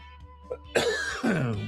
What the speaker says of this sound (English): and then I cough, of course